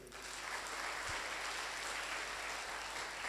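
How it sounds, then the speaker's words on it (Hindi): Steady, dense applause from a crowd at a DXN motivational business meeting, continuous and fairly loud for the whole stretch with no voices over it. "एक जोरदार ताली होनी चाहिए।"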